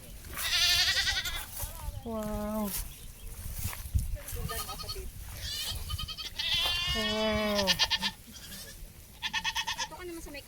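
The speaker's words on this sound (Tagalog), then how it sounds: "Wow, mga buntis na kambing." Pregnant white goats on a farm bleat repeatedly, several wavering cries near and loud, overlapping with people talking and exclaiming.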